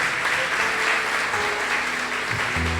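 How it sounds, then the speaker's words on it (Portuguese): Applause from a church congregation on a Sunday, a steady wash of clapping across the room that holds at an even level the whole time, with a low hum and faint voices underneath near the end. "Vamos aplaudir Jesus em forte."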